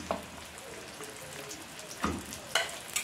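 Raw chicken breast goes into a pan of frying vegetables for fajitas, setting off a steady low sizzle with a few louder sputtering bursts as pieces land and are moved around, no talking.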